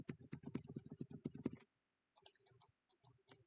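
Computer keyboard arrow keys are tapped in a quick, close series of crisp clicks, followed by a short pause and then a few softer, scattered presses.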